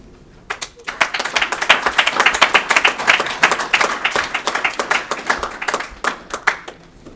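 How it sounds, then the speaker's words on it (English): Audience at a poetry event applauds student poets, dense hand-clapping rising quickly, sustained for several seconds, then thinning into scattered claps near the end. "How about one more round of applause for all of our student poets?"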